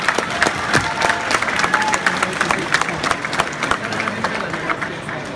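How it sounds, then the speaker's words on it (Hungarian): Audience applause honoring the Hungarian voice actor of Han Solo from the 1984 dub, dense steady clapping from a studio crowd with some background murmur, continuing evenly for the whole stretch. "1984-ben Csernák János ilyen Han Solót nyugodtan meg lehet tapsolni"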